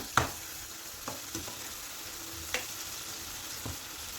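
Mussels fry in coconut oil in a pan, a steady soft sizzle broken by a few sharp scraping clicks as they are stirred at close range, with no voices.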